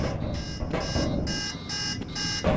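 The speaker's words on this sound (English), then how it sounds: "You're sounding the alarm." An air quality monitor alarm beeps in a quick, regular pattern of high, piercing tones over loud, noisy background sound.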